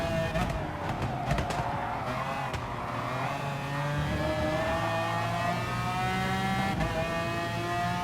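A McLaren F1 GTR engine in Gran Turismo Sport on the Sardegna Road Course revs hard and climbs steadily in pitch through the gears, loud and continuous, with brief tire noise early on.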